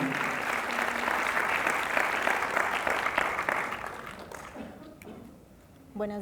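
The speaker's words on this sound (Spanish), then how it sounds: "Démosle la bienvenida y un caluroso aplauso" An audience gives a warm welcoming round of applause for a guest speaker at a talk, loud and dense at first, then fading out before a voice speaks at the end.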